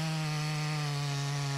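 A chainsaw runs at a steady, even idle-to-mid throttle during a tree-felling job in Naantali. The buzzing drone is close and continuous, with no voices over it.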